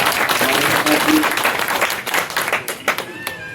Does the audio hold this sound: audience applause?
yes